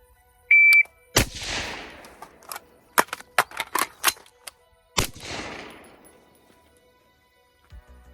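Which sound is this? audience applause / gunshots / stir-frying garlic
gunshots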